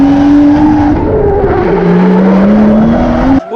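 A drift car launches off the start line at the Calmont round of the French drift championship. The engine screams loud and close, its pitch dipping and climbing again through gear changes, with tire noise and no talk, before cutting off abruptly.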